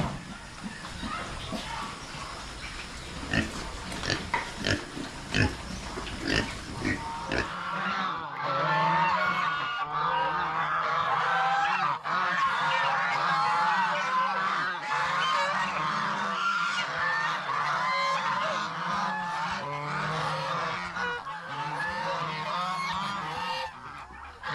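Geese honk loudly and repeatedly on a small farm with pigs, a dense chorus of calls that runs throughout, with scattered clatter and voices early on.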